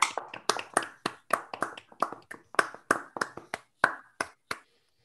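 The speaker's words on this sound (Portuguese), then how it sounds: "todo mundo abriu o microfone e aplaudir o Thales." Sparse, distinct handclaps from an online audience applauding over open microphones, about a dozen sharp claps in an uneven rhythm, fairly close and clear, stopping near the end.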